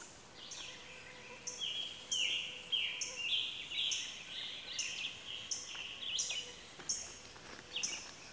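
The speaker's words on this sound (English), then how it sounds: "Just loving sitting out here and listening to the birds." Wild birds sing in the Birkhead Wilderness, with repeated high chirps and trills coming every second or so at moderate distance, steady and unbroken across a quiet outdoor backdrop.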